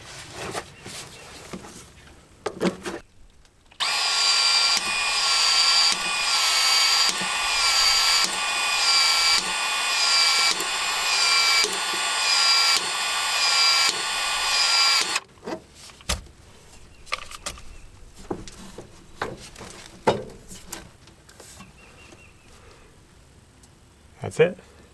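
A power drill drives fasteners to attach PEX pipe supports to joists, a loud whirring run of about eleven seconds with rhythmic pulses, with a person talking and clunking before and after.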